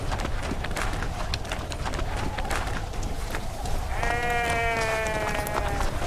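Sheep from a flock attacked by wolves bleat in a wavering, drawn-out cry near the end, over a busy, noisy scene with clattering hooves, and nobody speaks.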